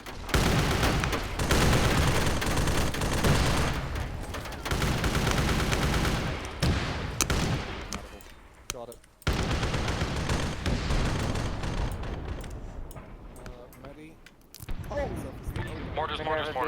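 Bursts of artillery and gunfire crash across an Arma 3 battlefield while a position comes under mortar fire. Dense overlapping blasts and rattling shots keep up a constant barrage, with brief lulls and renewed volleys, and voices talk underneath.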